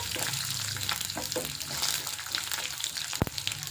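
Urad dal and cut chillies hit hot oil with a soft crackling sizzle, punctuated by light stirring taps and one sharp clink near the end, fairly quiet overall.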